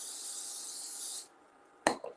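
A short burst of cooking oil sprayed over seasoned food before air frying, a steady close hiss lasting about a second that cuts off, followed by a sharp knock or clatter.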